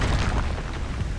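A fiery burst from the Incendio spell in Hogwarts Legacy, a loud, close, rumbling whoosh of flame that roars steadily throughout the short moment.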